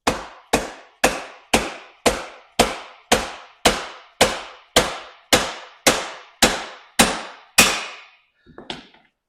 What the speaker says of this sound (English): I'm going to grab a plastic dead blow hammer so we don't damage the threads on the axle.